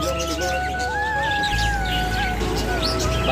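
Pet budgerigars kept in a shop chirp and warble continuously, with overlapping whistled notes and quick tweets over a steady low background hum, fairly close.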